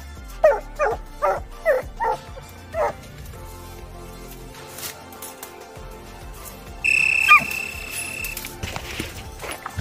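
Hunting dog hard treeing a raccoon in the woods, giving a run of about six loud barks in quick rhythm, then quieter yips and a sharp electronic whistle-like tone later.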